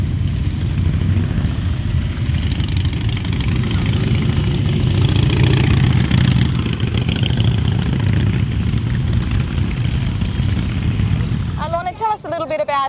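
Motorcycles idle in a steady, continuous mid-low rumble at an outdoor ladies' charity ride, with crowd murmur throughout and a voice breaking in near the end.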